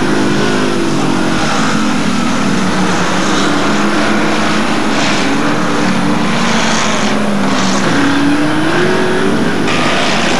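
Hotstox stock cars race around a track in a loud, continuous engine roar with rising and falling revs. Crashes happen during the race, and the sound stays dense and close throughout.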